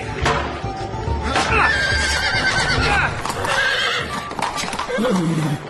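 A horse whinnies loudly over a busy background of hoofbeats and clatter, with a second neigh rising later; faint voices mixed in.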